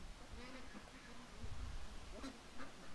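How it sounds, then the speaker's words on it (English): Ducks quack in a back yard by the deck on a rainy day, brief nasal calls scattered across a few seconds over steady outdoor background, with a voice talking faintly underneath. "I think I have ducks in every stream"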